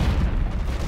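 A loud, booming gunshot in the online shooter Call of Duty Ghosts, clan wars Cranked match, a single dense low-heavy blast filling the whole short moment, close and forceful.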